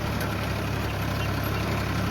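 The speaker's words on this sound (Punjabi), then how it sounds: "ਉਧਰ ਚੱਲਦਾ ਜੌਂਡੀਆ ਟਰੈਕਟਰ" A Jondhia tractor engine drones steadily and loudly at a constant low pitch while ploughing a potato field, with no pauses.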